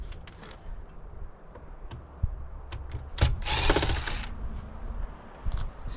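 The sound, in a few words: removing screws while scrapping an ice maker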